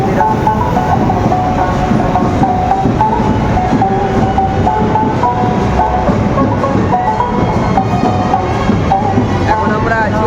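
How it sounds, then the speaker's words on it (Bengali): A metro train rumbles loudly and steadily at a metro station, its roar and rail clatter filling the whole stretch, with faint voices mixed into the background. "এটা হলো মেট্রো স্টেশন হচ্ছে নতুন আমাদের পাড়া"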